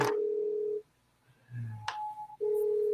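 A telephone line gives off steady electronic tones with a gap between them and a brief click, close and clear, with no talking.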